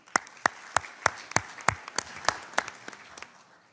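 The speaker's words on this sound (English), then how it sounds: "Please, round of applause for Dr." Conference audience applauds a speaker with sparse, distinct hand claps in an irregular rhythm, fairly quiet and fading slightly over a few seconds.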